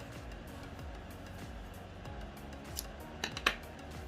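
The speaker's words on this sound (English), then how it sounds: "pull the yarn and then cut it off" Scissors snipping crochet yarn, a couple of quick, faint close-up clicks near the end over low background hum.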